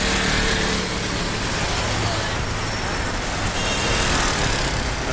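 Cars and other vehicles pass on a busy two-way street, a dense continuous roar of engines and tyre noise, close and loud throughout, with faint voices mixed in.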